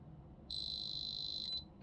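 A jeweler's diamond tester gives one steady high-pitched electronic beep lasting about a second, clear and close, signaling a diamond, with no talk over it.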